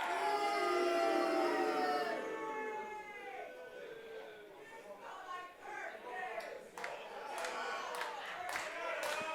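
The crowd at a Bristol wrestling pre-show match rises in a loud chanting, howling swell, then breaks into scattered cheers and claps while a commentator talks over it.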